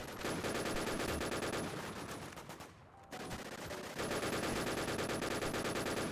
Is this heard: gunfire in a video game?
yes